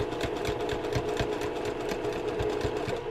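A sewing machine stitches a cathedral windows cushion cover, its steady rapid mechanical chatter running continuously and close up with a regular needle rhythm throughout.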